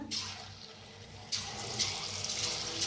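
Chana koli vada batter dropped into hot oil, giving a steady close hiss and sizzle of frying that swells suddenly partway through as more batter goes in, with no talking.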